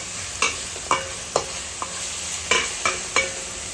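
Crushed green chili, garlic and coriander thecha sautés in oil for palak pithla, a bright sizzle punctuated by a steady series of spatula scrapes roughly every half second.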